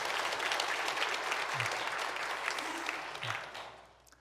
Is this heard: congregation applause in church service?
yes